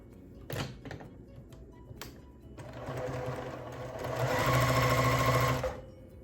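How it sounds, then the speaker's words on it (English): Sewing machine stitching down the edge of a cotton apron strip, brief taps first, then a steady whirring run that swells louder near the end before stopping. "take it to the machine and sew all the way down to enclose or to sew up this"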